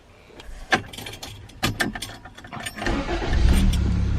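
A 1987 Toyota Corolla being started: a key rattle and clicks, then the engine cranks and catches into a rising, steady idle rumble, close and loud by the end.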